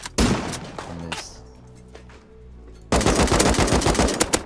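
Automatic weapons fire in the survival game Rust: loud, close bursts of rapid shots open, a brief quieter lull with tonal in-game sounds follows, then dense sustained firing resumes to the end.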